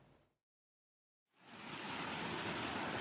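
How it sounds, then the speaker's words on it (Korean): Hail 1 to 2 cm across pours down suddenly from an early-summer sky in a farming area, arriving after a brief silence as a dense, steady, hissing roar of pellets striking surfaces. "초여름 날씨를 보이던 하늘에서 갑자기 우박이 쏟아집니다."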